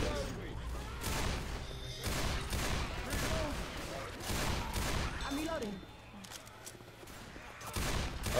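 Continuous gunfire in the zombie shooter Left 4 Dead 2, with rapid overlapping shots and bursts, moderately loud, briefly easing before picking up again, with player voices heard amid the chaos.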